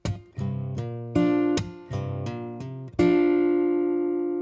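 Fingerstyle acoustic guitar lick from a song, with a hammer-on: several crisp plucked notes ring out one after another, then a final fuller chord sustains, close and clear with no voice.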